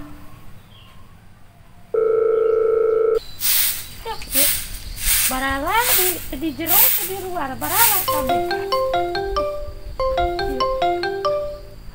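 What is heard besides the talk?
telephone dialing and ringing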